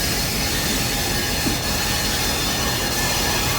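Tennessee, Alabama and Georgia Railroad locomotive number 80 rolls past at a railroad museum, a loud, close, continuous rumble of wheels and rail noise with faint squealing, no voices.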